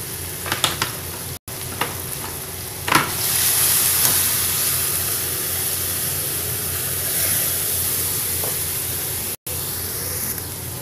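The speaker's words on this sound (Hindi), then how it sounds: "ये टमाटर भी भुनने आए हैं, तो अब हम इसके साथ ये हल्दी ऐड कर देंगे।" Tomatoes frying in a pan with turmeric going in, a steady loud sizzle with a few stirring clinks early on, holding constant throughout with no voices.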